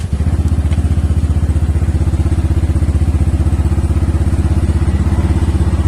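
A Honda Vario 150 scooter engine fitted with an upgraded CVT pulley runs at a steady, loud idle close by, with an even, rapid thumping pulse and no voices.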